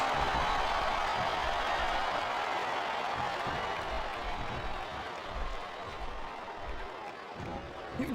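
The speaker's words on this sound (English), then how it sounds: "This capacity crowd is making their opinions known tonight." A capacity arena crowd in a WWE 2K wrestling video game during a steel cage match, producing a steady, dense roar of cheering and noise that holds at a moderate level throughout without a break.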